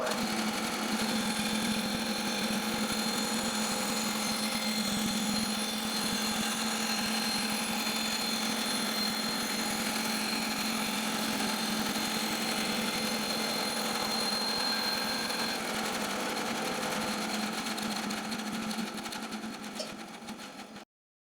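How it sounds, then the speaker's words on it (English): A band saw runs steadily and loudly while cutting a wooden board, a continuous whining drone that holds for about twenty seconds and then cuts off abruptly. "let's go ahead and cut this board"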